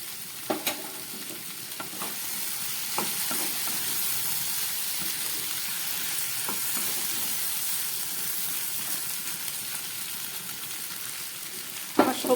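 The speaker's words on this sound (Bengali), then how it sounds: "আমার সবজিগুলো প্রায় কষানো হয়ে গেছে।" Potato and ash gourd being sautéed in a pan with coriander powder, a steady soft sizzle and hiss with occasional spatula scrapes and stirring knocks, close and continuous throughout.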